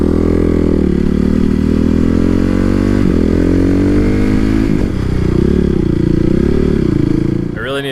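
A supermoto motorcycle riding through traffic, its engine droning loudly and steadily up close under wind noise, with the pitch rising and falling as the throttle changes.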